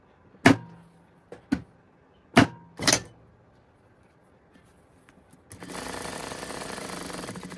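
A sewing machine stitches a curved pocket seam at a waist seam, preceded by several sharp clicks and knocks, then a steady close mechanical whirr of running stitches for the last two seconds.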